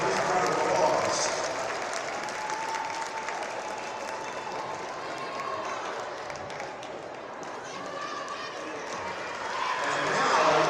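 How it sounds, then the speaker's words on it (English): A crowd at a varsity high school basketball game in a gym claps and cheers loudly. Steady applause swells at the start and end, and indistinct voices mix into the crowd noise. "Give yourself a big round of applause."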